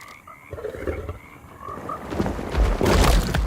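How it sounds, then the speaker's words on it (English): Cane toad croaking in the video game Alone in the Dark, a repeated throaty call over a swampy game ambience that grows louder and busier toward the end, with no talk. "Oh no, that's a toad. Ugly ass cane toad."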